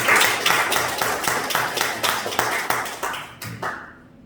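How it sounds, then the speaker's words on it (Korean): Church congregation applauding at a Sunday worship service, a steady run of near hand claps that thins out and fades toward the end. "다시 한번 박수 한번."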